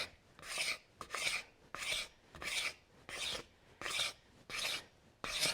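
A pocket knife blade scrapes along an oak hammer handle in eight rhythmic, rasping strokes, close and distinct with brief pauses between each pass.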